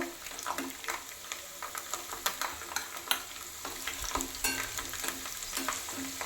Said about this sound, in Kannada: ಇವಾಗ ನಾನು ಒಂದು ಅರ್ಧ ಕಪ್ಪಷ್ಟು ಬೆಳ್ಳುಳ್ಳಿ ತೊಗೊಂಡಿದ್ದಲ್ಲ ಅದನ್ನು ಹಾಕ್ಕೊಳ್ತಾ ಇದ್ದೀನಿ ಹಾಕೊಂಡು ಇದನ್ನು ಚೆನ್ನಾಗಿ ಫ್ರೈ ಮಾಡ್ಕೋಬೇಕು